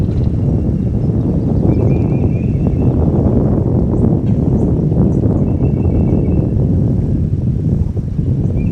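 Gusty wind buffets the microphone outdoors on a fishing outing, a loud, continuous low rumble with faint higher sounds drifting in the background.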